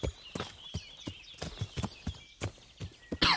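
Horse hooves clip-clop on the ground in Kingdom Come: Deliverance, a steady series of distinct close thuds at walking pace, mostly alone with a faint bird-like chirp in the background.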